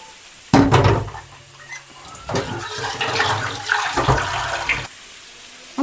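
Water is poured into a cooking pan of vegetables and fried spice paste. The pour makes a loud rushing splash that starts abruptly and runs for about four seconds before it cuts off.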